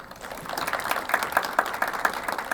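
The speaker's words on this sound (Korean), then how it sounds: "큰 박수 부탁드리겠습니다" A seated audience at a regional development forum in Jeju gives a round of applause, a moderate, steady patter of many hands that swells slightly and holds, with little talk.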